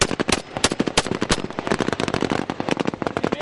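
Rapid machine-gun and rifle fire at an Afghan outpost under Taliban attack, loud, close bursts of sharp cracks coming in quick, irregular succession with no pause.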